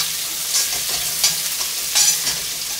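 Roughly chopped spiny gourd and onion fry in a pan with a steady, close sizzle, broken by a few stirring scrapes and louder bursts as the vegetables are moved, with no talking.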